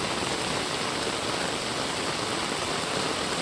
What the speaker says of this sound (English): with all this rain, we can't really go anywhere